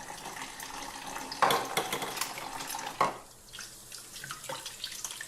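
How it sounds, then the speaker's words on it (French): Juicer parts, including the auger and other accessories, rinsed under a running tap in a kitchen sink, with steady water flow and a few louder splashes and clatters of plastic pieces against the basin. "Rincez-les sous l'eau."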